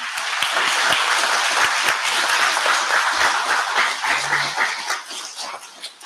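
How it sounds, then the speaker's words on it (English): Parents and guests at a kindergarten graduation give a loud round of applause, dense clapping that swells then thins toward the end, with a dog's yip briefly audible among it. "I think they deserve another round of applause."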